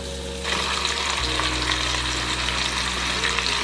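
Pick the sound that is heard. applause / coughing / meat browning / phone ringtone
meat browning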